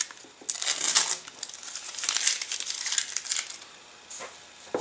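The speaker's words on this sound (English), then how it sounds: "now I can remove all the tape here" Masking tape peeled off a model rocket body tube around a secured avionics bay, in several close crinkling, ripping pulls with brief pauses between them.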